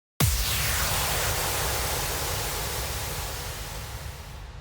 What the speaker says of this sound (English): So I started off with an impact sound